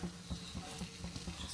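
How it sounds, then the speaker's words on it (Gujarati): Oil and ghee mixture poured into a hot pan while cooking a Gujarati meal, giving a soft, quiet sizzle with a light pattering crackle and no one speaking. "સાઈડમાં તેલ ઘી મિક્સમાં આપણે રેડીશું."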